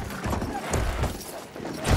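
Horse hooves clip-clopping in a Battlefield game, a few uneven hoof strikes close by over a rumbling battlefield backdrop, with brief mechanical clatter and no clear speech.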